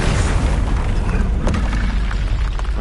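An Incendio fire spell is cast in Hogwarts Legacy, giving a loud, sustained whooshing roar of flame and rumbling burst that fills the whole moment without letup.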